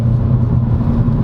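A 2022 Honda Civic RS sedan rolling over a bumpy road, a steady low rumble and road roar heard from inside the cabin, brief and continuous with no voices.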